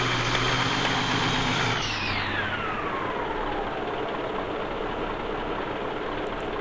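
Simulated vehicle engine from an RC sound module idling steadily, then winding down with a falling whine as the motor is switched off, leaving a quiet hum.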